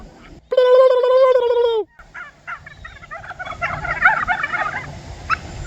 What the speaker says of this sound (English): I love the turkey sounds